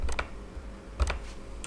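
Fingers type a cover letter on a computer keyboard, a few sparse clustered keystrokes close by in a quiet room.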